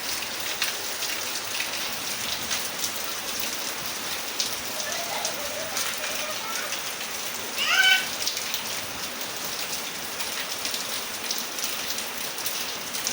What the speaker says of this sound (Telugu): అలా బయట ఫుల్ వర్షం వస్తుంది